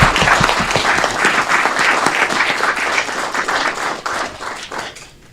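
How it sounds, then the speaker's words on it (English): An audience at a city employee honoring event claps loudly and close for a few seconds. The separate hand claps are easy to pick out, and the applause thins and fades out at the end. "Let's give her another round of applause."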